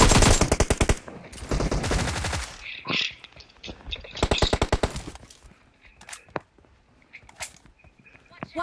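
AKM rifle fire in PUBG Mobile comes in several rapid automatic bursts, loud and close, followed by scattered single shots and game sounds as gunfire thins out over the last few seconds.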